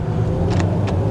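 A second-generation Mercedes SLK 55 AMG pulls away in first gear, its engine giving a brief, steady, deep rumble.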